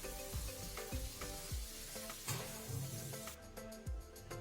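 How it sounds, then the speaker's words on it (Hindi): Prawns sizzle and fry steadily in a pan, the hiss continuous and close, with occasional clinks and stirring knocks from a utensil against the pan. "प्रॉन हमारा पूरा फ्राई हो चुका है।"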